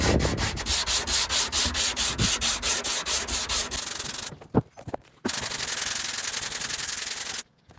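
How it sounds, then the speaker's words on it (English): Fiberglass on MK3 Supra mirrors is sanded by hand in a quick, rhythmic back-and-forth rasp, then in a continuous scrubbing run after a short pause with a few knocks. "But let me sand these down, then we'll finish that up."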